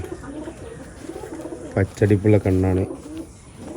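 Pigeons in a loft give a burst of loud, close, throaty coos in quick succession midway through, with someone talking quietly before and after.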